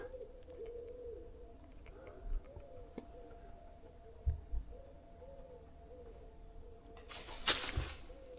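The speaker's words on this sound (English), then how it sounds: "Just birds, mate, just birds." Soft repeated cooing of a dove with other distant bird calls, over a quiet outdoor background with a few low thumps and a brief rustle near the end.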